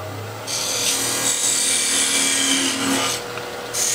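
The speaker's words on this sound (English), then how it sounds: "And I'll actually start the parting off process now." A wood lathe parts off a wooden chess piece, making a sustained close rasping scrape that starts after a brief pause and runs for about three seconds before easing off.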